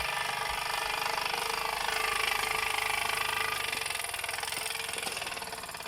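Mamod SA1 Roadster toy steam car running: a steady, fast chuffing and buzzing mechanical drone that holds at an even level for several seconds, close and continuous, without talk.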